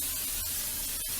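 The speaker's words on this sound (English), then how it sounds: "we are going to spray the chips with some olive oil" A short burst of olive oil aerosol spray hisses twice onto tortilla chips, brief and close, with a faint steady hiss in between.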